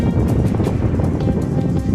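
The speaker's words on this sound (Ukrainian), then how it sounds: "Дуже сильний вітер." Strong wind gusting during an April snowfall in Ukraine, buffeting the microphone in continuous loud roaring blasts with brief crackling bursts throughout.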